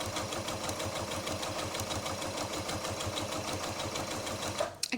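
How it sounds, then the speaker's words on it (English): Continuous fast needle chatter and motor hum of a sewing machine feeding quilt squares one after another without stopping, loud and close, ending with a brief clunk as it halts. "we'll continue sewing straight from one square to the next square"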